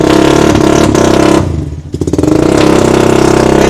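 A Concept Raider 150 Fi motorcycle fitted with a titanium exhaust, its engine not tuned for the pipe, revs loud and close with a rough throbbing note, briefly drops off, then climbs back to a sustained buzzing rev.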